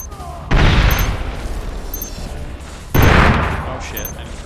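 Frag grenade detonations in the online shooter SOCOM Confrontation during a bomb-defuse match: two loud booming blasts about two and a half seconds apart, each fading into a rumbling tail.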